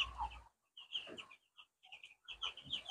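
Ten-day-old broiler chickens cluck and chirp close by in short, bright bursts with brief gaps between them.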